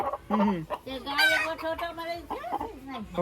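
Chickens cluck close by in quick, uneven bursts, with one longer rising call in the middle.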